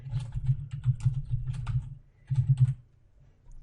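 Typing on a computer keyboard while entering placeholder text into a Publisher text box: two bursts of quick, close key clicks, the first about two seconds long, then a short pause and a briefer flurry, with no talking.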